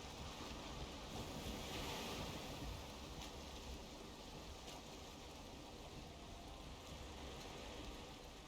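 Steady wind and rolling ocean surf in the Valheim video game, a continuous broad wash of noise with gentle swells in intensity and no talking.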